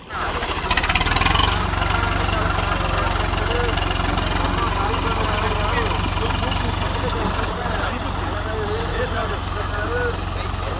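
A tractor engine runs at a village temple fair, a loud continuous rumbling drone with steady vibration, close by and unbroken, with people talking over it.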